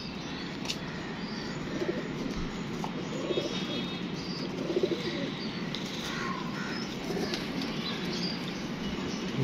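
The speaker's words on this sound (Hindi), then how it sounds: "ये ले जी, ये कबूतर है, सबसे मेन कबूतर है ये।" Pigeons cooing in low, rolling murmurs with occasional chirps and bursts of wings flapping, close by and continuous, with no talking.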